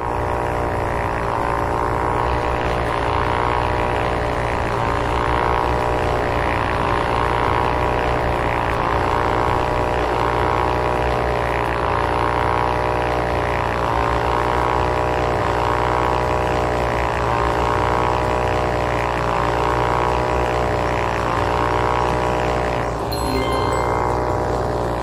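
A propeller aircraft in the video game Ultrawings hums in flight, a loud continuous engine and prop drone with a steady pulsing rhythm that hardly changes, with a brief shift near the end.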